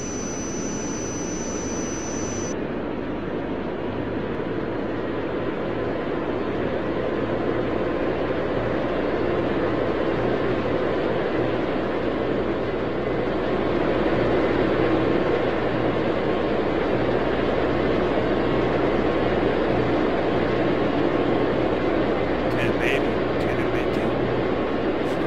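A JetBlue airliner takes off in the game Tower! 2011, a loud, steady jet engine roar that holds for the whole stretch and swells slightly midway, with a brief high whine at the start.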